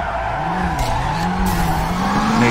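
A drift car understeers through a corner at Furidashi, its tires squealing continuously over a droning engine, loud and close from an onboard viewpoint, with no voices.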